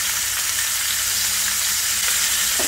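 Spiced mackerel coated in Spanish spices frying in oil in a pan over medium-low heat, a steady close crackling sizzle throughout with no voices.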